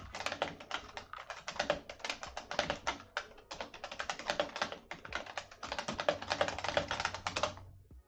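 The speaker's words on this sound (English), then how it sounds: "I'm gonna type it in chat." Rapid bursts of typing on a computer keyboard, close and clear, with quick clattering keystrokes broken by short pauses over several seconds, no voice heard.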